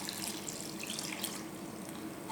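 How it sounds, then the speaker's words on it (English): Water poured from a tap or jug over prunes in a bowl to soak them, a steady continuous splashing stream, close and fairly loud, running alone the whole time. "pour the water on top"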